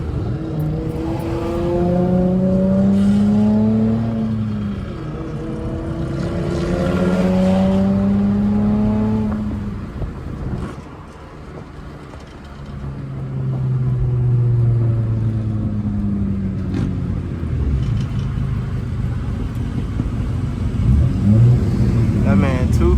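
A tuned, straight-piped V6 Honda Accord with a manual gearbox, running on 91+ fuel, revs hard through repeated rising gear pulls, its loud, raspy exhaust droning up and down between shifts as it drives, with occasional talk inside the car.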